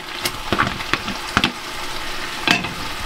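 Kidney sizzles in a hot frying pan for a steak and kidney pie, a steady soft crackle broken by several sharp clicks and taps from stirring.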